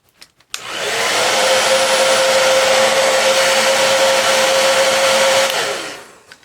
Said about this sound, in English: So I'm going to take my blow dryer and I'm going to heat it up.